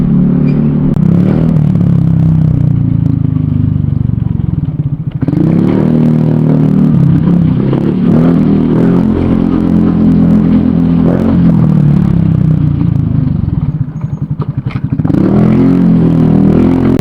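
An Easyride 150 FI motorcycle fitted with an Akrapovic pipe and no silencer, ridden along a street, gives a loud, steady engine drone that rises and falls with throttle and gear changes and keeps a raspy rumble throughout.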